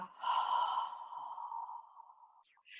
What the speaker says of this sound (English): Take a breath into the ribs, and a big breath out, wind and water.